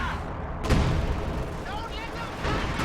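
Priest self-propelled artillery fires in Company of Heroes, one deep boom early on followed by a rolling rumble, with a commentator talking over the battle.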